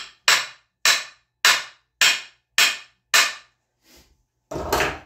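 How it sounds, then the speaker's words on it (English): A hammer strikes to drive a white oak axe handle, six sharp, evenly spaced blows about half a second apart, loud and close, followed by a softer knock and a longer scraping thud. "You can use your regular hammer if you want to."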